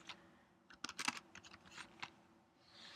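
Someone types on a Mac computer keyboard, a quiet, uneven burst of close, crisp keystrokes with short pauses between clusters.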